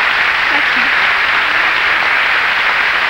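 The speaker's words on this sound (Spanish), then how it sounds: "Qué un aplauso lindo para ese gran dúo." A studio audience on Peruvian television gives a steady, loud burst of applause for a singing duo, a dense, even roar of clapping that holds without pause throughout.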